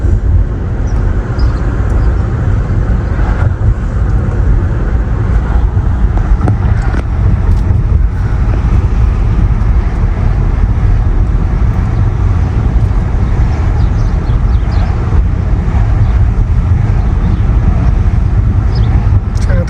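Inside a moving car driven by a young woman with her mother as passenger, a steady loud low road and engine rumble with wind buffeting fills the whole stretch, continuous and close.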